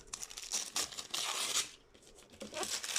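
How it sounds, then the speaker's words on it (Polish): Plain packing paper torn and crumpled by hand while unboxing a Xiaomi Redmi Note phone, several close, sharp ripping bursts with crinkling between them, fairly quiet. "to jest zwykły papier, dlatego można jak najbardziej porozrywać"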